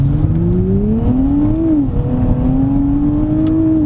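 A 2024 Nissan Z sports car with a nine-speed automatic accelerating, heard from inside as a loud, steady engine drone that rises in pitch, dips briefly at a gear change, then climbs again.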